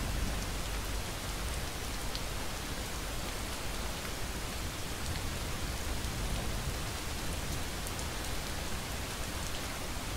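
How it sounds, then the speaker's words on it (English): Continuous steady video game rain patters and hisses evenly throughout, with no voices and no breaks. "Honestly, the rain is kind of peaceful."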